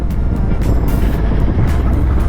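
A 2025 Honda NT 1100 motorcycle engine runs close by, a loud, deep, steady rumble with an even throb and no breaks.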